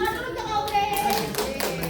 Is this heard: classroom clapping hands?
yes